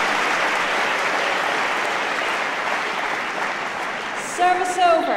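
A crowd applauds a badminton rally at the 2017 Belgian International men's singles final, with loud sustained clapping that fades slightly before a voice begins at the end.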